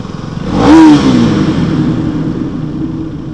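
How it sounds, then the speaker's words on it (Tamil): A motorcycle with its stock silencer rides through a tunnel: a loud, close engine roar swells to a sharp rev peak, then settles into a rumbling, echoing drone. "நம்ம இது ஸ்டாக் சைலன்சர் கூட டனலில் இவ்வளோ சவுண்டு வருதா?"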